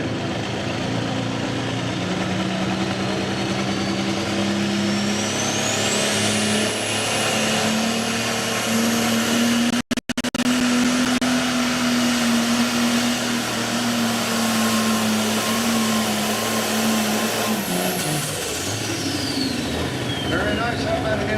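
A light limited turbo tractor of the 7,700 pound class roars at a tractor pull, a loud, sustained engine drone with a rising turbo whine that climbs, holds and then falls away, with a voice talking over the noise.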